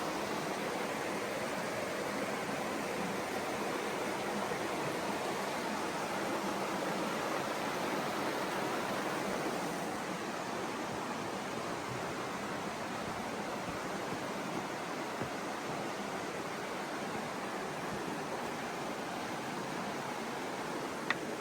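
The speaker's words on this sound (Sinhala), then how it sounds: "මේ මෙතන ලස්සන වතුර පාරක් තියෙනවා." River water rushing steadily through rocky Patuna Chasm, a continuous broadband roar of flowing current close by, with no voices.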